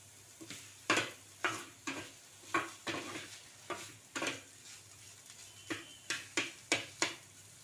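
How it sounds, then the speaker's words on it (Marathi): A paneer paratha roasts on a pan while a spatula presses and turns it, producing a soft, quiet series of regular scraping taps over a faint low sizzle, about a dozen distinct strokes in steady rhythm. "चांगलं असं छान परतून घ्यायचं भाजून"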